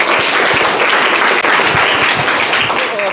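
Enthusiastic applause from a classroom of government school students in Mumbai during a quiz competition, dense steady clapping throughout with voices mixed in.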